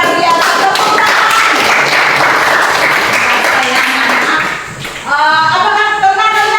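A classroom group of children claps their hands together in a loud, sustained burst of applause that fades near the end, followed by a brief voice.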